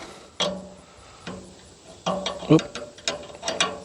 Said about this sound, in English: is just loosen these bolts here.